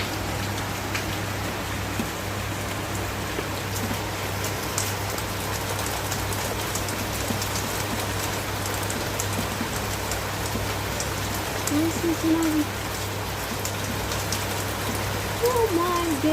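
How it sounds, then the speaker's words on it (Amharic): Heavy rain pours steadily in Kuwait during a downpour that is flooding the streets, making a dense, continuous close hiss that stays even throughout, with brief faint vocal sounds near the end. "በጣም ነው የሚገርመው ማርያም ዝናብ ወይ ጋይስ!"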